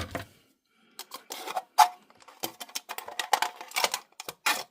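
Scissors cut through an aluminum soda can for jewelry and craft work, giving a close, irregular run of sharp clicking snips and thin metallic crackles with short pauses between cuts.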